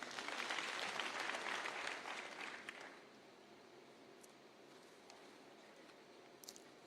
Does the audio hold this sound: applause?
yes